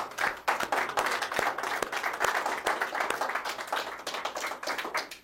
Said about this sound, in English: Mike deserves a round of applause